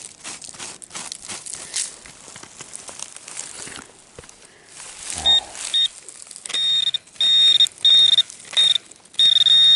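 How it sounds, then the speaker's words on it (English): Pinpointer probe used while metal detecting in California ground, giving sharp high-pitched beeps in short bursts, then a longer steady tone, loud and close, after some scraping and crunching of soil. "Shall we use the pinpointer and see?"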